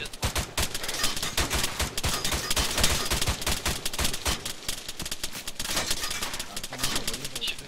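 Gunfire rains down from above in an ArmA 3 military simulation session, a dense, rapid stream of overlapping shots and bursts heard at a moderate distance without letup.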